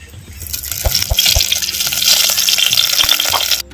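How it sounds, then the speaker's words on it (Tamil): Cooking oil poured into a clay pot for a village-style dried-fish kuzhambu: a close, continuous liquid gush with a few low splashing thuds at the start. "எண்ணெய் ஊற்றிக்கிறேன்"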